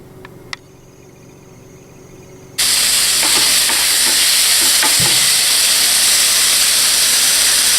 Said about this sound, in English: Little stir fry action going on.